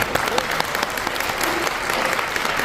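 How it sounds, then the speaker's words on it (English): A crowd at a conference applauding steadily, dense clapping from many hands filling the whole stretch at a fairly loud level. "Please give her a warm round of applause"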